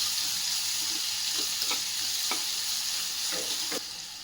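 Onion sizzles and fries in a pan for a dry methi vegetable dish, a steady loud hiss broken by several soft scrapes of stirring.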